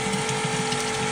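A desludging machine pumps water through a home radiator heating system, producing a steady mechanical hum with a fast, rhythmic pulsing churn, close and continuous.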